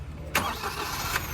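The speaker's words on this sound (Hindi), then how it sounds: "अब ना इंजन नॉइज सुनना, अब कार ना स्टार्ट होगी, ये देखो" A 2024 Maruti Suzuki Swift's three-cylinder engine is started close by: a short quiet moment, a sharp cranking burst as it catches, then an even mechanical idle.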